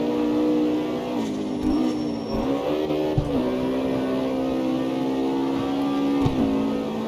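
Ford Mustang in the street-racing game CarX Street holding high revs, a strong steady engine drone with brief dips and rises between shifts, alone without talk.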